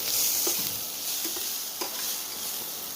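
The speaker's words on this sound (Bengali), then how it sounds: "তো এর মধ্যে এখন হচ্ছে পেঁয়াজ ভাজা" Onions frying in a pan for a mashed eggplant dish, a steady close sizzle with a few soft stirring scrapes and no voices.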